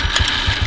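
A mini motorbike engine idles close by with a quick, rhythmic putter and slight knocking pulses in a brief burst.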